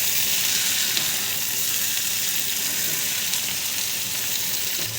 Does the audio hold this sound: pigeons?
no